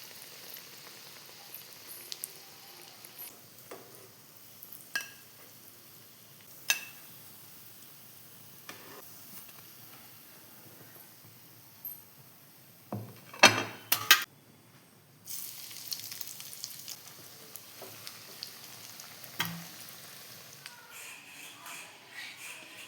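Chicken bread rolls fry gently in a pan over a low flame, making a faint, soft sizzle broken by scattered light clicks and a short burst of scraping and clatter as they are turned over.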